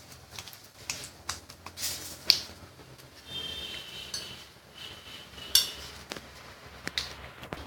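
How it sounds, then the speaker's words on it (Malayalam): Mustard seeds splutter in hot oil in a pan, giving sharp, irregular pops and crackles that come a few at a time against a quiet sizzle. "കടുക് പൊട്ടിയിട്ടുണ്ട്"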